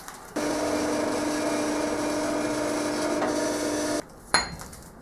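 A loud, steady whine of a drill boring a hole into steel for several seconds, stopping abruptly, followed by a brief sharp clink.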